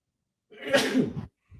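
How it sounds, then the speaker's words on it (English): A loud, close sneeze bursts out, followed moments later by the faint start of another. "2 sneezes"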